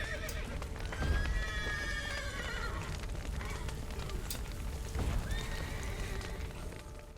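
Horses in the video game The Witcher 3 whinny and neigh several times over a soft bed of hoof clip-clops and rain-like patter.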